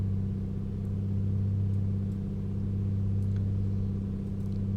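A Piper Comanche engine held at about 2000 RPM during a run-up in Microsoft Flight Simulator, a steady, loud, droning hum with no talk over it.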